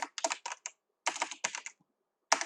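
Folder name typed on a computer keyboard in three quick bursts of clicking keystrokes separated by short pauses, close and alone in a quiet room.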